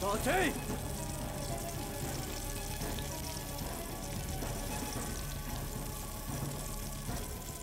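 Food fries in a pan in the Iron Chef Wii cooking game, making a steady, continuous sizzling hiss throughout, with a short tonal chime near the start.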